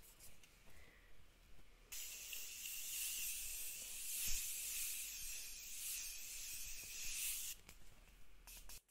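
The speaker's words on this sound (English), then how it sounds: "I'm going with the Morphe Continuous Setting Spray, and we're going to spray our face." A continuous fine mist of Morphe Continuous Setting Spray hisses onto a face for several seconds close by, with brief quieter rustling before and after.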